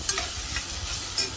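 Food in a pan with ginger-garlic paste is stirred and fried, giving a continuous broadband sizzle with a few scraping spatula strokes near the start and end.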